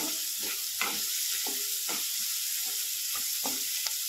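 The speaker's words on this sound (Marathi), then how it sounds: "आपल्याला हे सगळं छान असं भाजून घ्यायचं आहे लालसर होईपर्यंत" Green chilies roast in a hot pan for a quick vegetable dish, giving a steady loud sizzle and hiss with repeated scraping stir strokes throughout.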